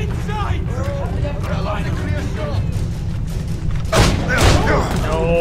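Gunfire and booming shots in the Assassin's Creed Rogue video game, with a heavy burst near the end, heard under continuous excited talk from players.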